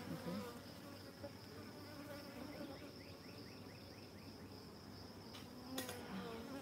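Honeybees hum steadily around an open hive during a hive inspection, a dense continuous buzz with individual bees droning past nearby and a brief knock near the end.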